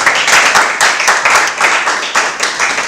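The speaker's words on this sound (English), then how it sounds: "please be a standing and clapping ovation for him" An audience claps steadily and loudly, many hands at once in a dense, continuous burst of applause.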